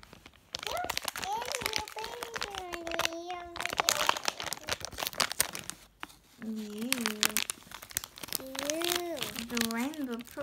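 Wrapping paper on a unicorn gift crinkles and tears in bursts of rustling while someone talks and sings over it throughout.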